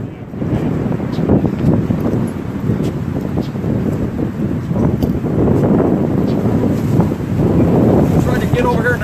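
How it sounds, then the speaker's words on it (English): Wind buffeting a microphone outdoors at a courthouse corner, a loud, continuous low rumble with gusting swells that stays dense from start to finish. "Maybe there's less wind over here."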